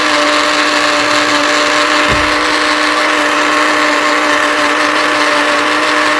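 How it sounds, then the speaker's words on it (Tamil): A kitchen mixer grinder whirs at full speed blending coconut and mint for camel meat curry, a loud continuous motor drone with a steady tone and no pauses, no talking. "இப்போ மிக்சியை போட்டு அடிச்சிடலாம்"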